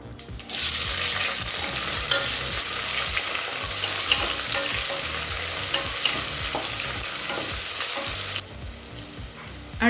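Two long-sliced onions frying and stirred in hot oil with whole spices such as bay leaf and fennel for egg biryani, a steady close sizzle with clattering stir strokes throughout, easing off near the end.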